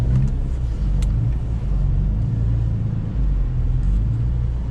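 A BMW E39 5-speed touring with a modified S54 dual exhaust runs with a steady, loud low-pitched engine rumble throughout, close by, with no talk.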